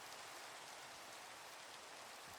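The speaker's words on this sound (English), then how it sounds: "the sound of rain in Minecraft, while lovely, is not what puts me at ease the most" Steady rain in the video game Minecraft, a soft, even hiss of falling drops that holds constant throughout without any voices or other sounds.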